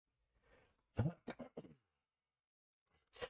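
A brief, close throat clearing with a couple of rough coughs, followed by a short pause and another quick rasp.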